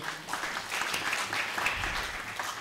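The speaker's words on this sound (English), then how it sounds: "Let us have a clap for this person" An audience at a graduation ceremony applauds with brief, fairly light clapping that rises and falls but keeps going for a couple of seconds, heard from a moderate distance.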